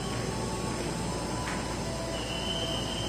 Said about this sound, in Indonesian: Yuk kita tunggu nih komuter tujuan Jakarta Kota yang akan diizinkan berangkat dari jalur 1 stasiun